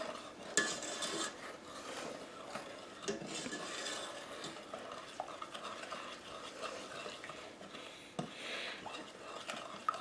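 A spoon stirs sugar into milk in a pan for fudge, giving a soft continuous scraping and rubbing along the pan bottom, faint and close, with occasional light knocks.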